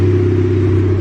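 A turbo Honda Civic engine idling just after startup, with a steady, loud, close low rumble and hum running the whole second without change.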